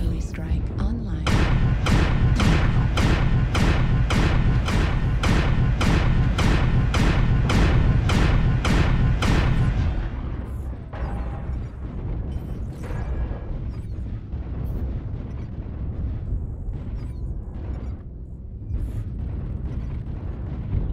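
Artillery strike explosions in the MechWarrior Online game, a rapid rhythmic barrage of heavy booms for about ten seconds, then rumbling impacts and battle noise with a voice talking over it.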